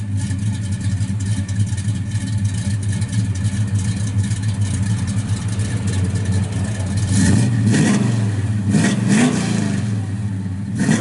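A 1967 Chevrolet Chevelle SS 396 rumbles through 2.5-inch Flowmaster exhaust with a deep, throaty note, revving up louder near the end with rising bursts, close by and without voices.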